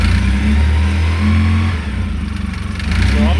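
A 2013 Polaris RZR 800s engine running after first ignition, a loud close idle with steady low drone that rises into revs, holding strong and even, then wavering near the end.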